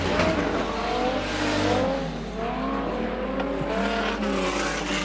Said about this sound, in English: Rudy Mostert's car misfiring.